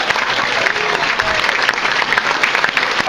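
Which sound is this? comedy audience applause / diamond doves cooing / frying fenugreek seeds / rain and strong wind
comedy audience applause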